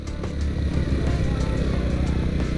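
Motorcycle engine buzzing nearby on a road in the Menoreh hills of Kulonprogo, a steady mid-pitched drone with some rumble, moderately loud throughout.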